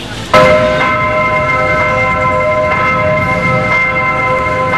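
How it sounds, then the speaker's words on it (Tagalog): Large bells of Manila Cathedral ringing at noon, loud and sustained, bright tones hanging over a noisy outdoor crowd and traffic background. "umalingaw naman ang mga kampana ng Manila Cathedral bilang pag-alala sa halos 60 biktima"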